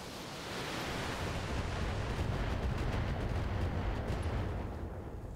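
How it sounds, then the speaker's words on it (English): Dense, continuous barrage of missile fire from a mech in the BattleTech video game, a loud roaring rumble of overlapping blasts that holds steady for several seconds with no voices. "let's see if you can precision target with missiles"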